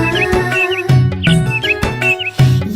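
A sparrow gives short, bright chirps, repeated through a Tamil children's nursery rhyme and sitting lightly over the backing music.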